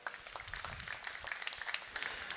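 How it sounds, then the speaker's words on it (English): Audience at a UEFA Under-19 Futsal Euro final draw breaking into applause, a dense, steady patter of many hands clapping together, moderately loud and fairly close. "Let's give a round of applause to everybody."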